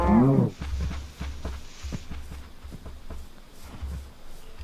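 Two cows moo in the Minecraft video game, one short low moo at the start followed by quiet repeated footstep-like taps at a farm enclosure, faint and without talk.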